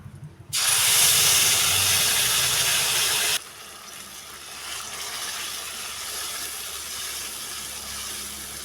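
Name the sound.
whole spices sizzling in oil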